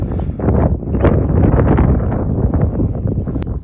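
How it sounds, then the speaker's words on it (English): Strong wind gusting outdoors on a hilltop mound with a view, a steady loud roar buffeting the microphone with low rumbling throughout. "And the wind."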